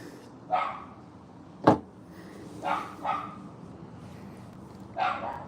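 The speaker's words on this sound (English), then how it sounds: "Doesn't sound like the dog's gonna shut up." A dog barks nearby in separate single barks spaced about a second or two apart, with one sharp knock in between and a low room background.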